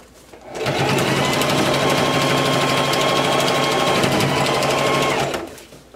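A sewing machine runs steadily while stitching fabric close to the edge of a circle blouse, a loud continuous whir of about five seconds that starts and stops cleanly, with no talking over it.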